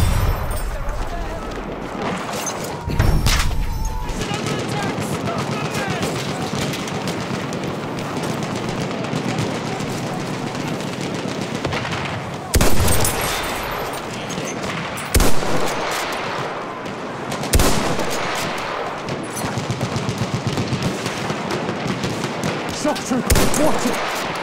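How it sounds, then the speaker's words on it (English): Sustained machine gun fire rattles through a Battlefield 1 conquest battle, punctuated by louder bangs and blasts, with a voice speaking over the steady combat din. "There's a machine gun."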